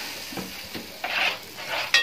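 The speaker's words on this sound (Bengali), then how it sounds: "পিঠে ভাজছে," Pitha rice cakes frying in oil, soft sizzling with scraping stirs and brief pan clatters, fairly close and quiet.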